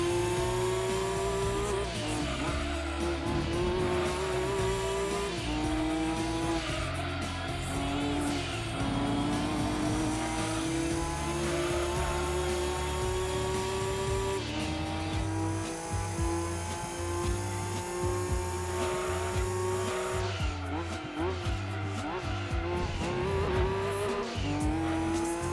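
GT500 race car in Gran Turismo 2 droning continuously with engine pitch rising and falling through gear changes, tires squealing repeatedly through corners, loud and steady throughout.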